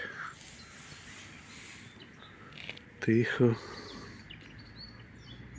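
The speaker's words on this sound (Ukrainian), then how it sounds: "Отут в лісочку в цьому пташки співають." Birds sing in a small riverside woodland, a few faint chirps over soft outdoor background noise, with a louder brief call in the middle and a person speaking quietly nearby.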